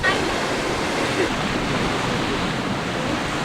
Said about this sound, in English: right now we kind of got a storm coming in, so there's a bunch of loud waves